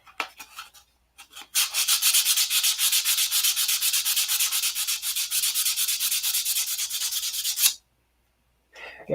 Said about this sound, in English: Let me get it sanded off.